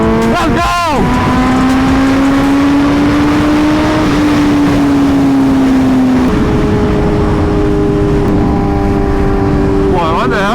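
A Ducati motorcycle rides on a Texas road, its engine loud and close throughout with a steady drone that shifts pitch as it accelerates and changes gear, with brief voice sounds at the start and end.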